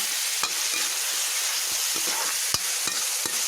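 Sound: garlic and onion frying in desi ghee

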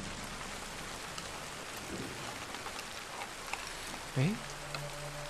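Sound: rain in the video game Little Nightmares

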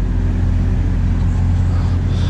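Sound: trucks at a concrete plant next door

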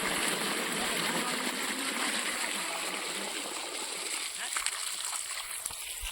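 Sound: water splashing from pump-fed pipe

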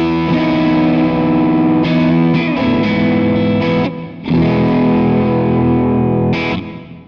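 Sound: electric guitar played through Kemper amp profile

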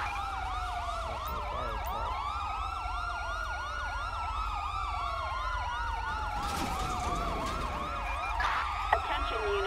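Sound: ambulance siren responding code 3, GTA V video game

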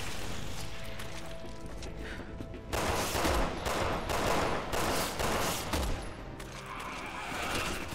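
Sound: gunfire in video game Resident Evil 6

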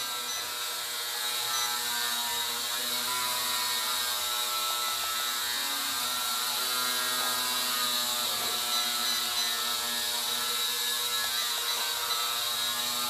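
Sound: toy drone motors running

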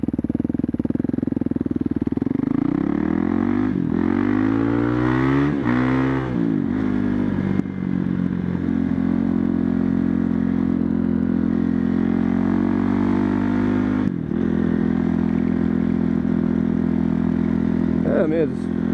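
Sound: Husqvarna TE511 motorcycle engine during test ride

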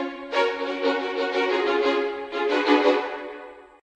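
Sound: violin

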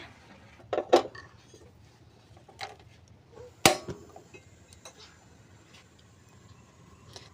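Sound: pressure cooker pot of beef placed on stove

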